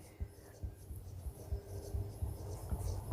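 Pen or marker writing out a math problem on a surface, producing soft irregular scratchy strokes and taps at close range, with faint background noise.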